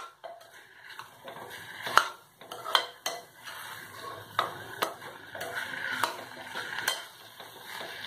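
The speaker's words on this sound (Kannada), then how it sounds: "ಇದನ್ನು ಚೆನ್ನಾಗಿ ಈ ಥರ ಫ್ರೈ ಮಾಡಿ ಆಮೇಲೆ ಅಕ್ಕಿ ಆ್ಯಡ್ ಮಾಡೋಣ" Vegetables being fried in oil and stirred in a pan for a vegetable khichdi, with a faint sizzle under repeated scraping and clinking of a spoon against the pan, close and fairly quiet.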